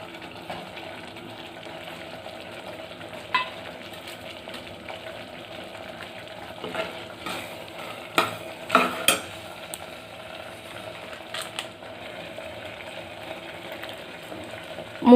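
A thick sweet lentil and grated coconut filling with crushed cardamom stirred and drying in a pan for paruppu poli, a low continuous scraping and faint sizzle with a few sharper spoon knocks mid-way, no talking.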